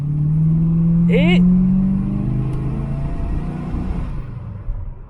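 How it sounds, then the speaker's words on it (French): A video game Plymouth Fury's big engine revs hard under acceleration, a loud, close rumble that swells and then settles into a steady drone, with a brief voice over it. "t'écrases un peu l'accélérateur"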